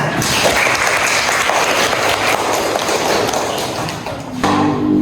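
A classroom of students claps in a loud, continuous burst of applause with scattered thumps and taps, tapering off toward the end.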